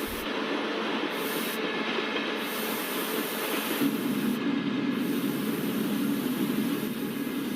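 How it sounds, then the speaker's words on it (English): Express train 16335 Nagercoil Express slowing with brakes applied on a busy western coastal route: a steady loud rolling rumble and hiss, with a low grinding band swelling partway through and continuing to the end. "We can hear the brake applying sound."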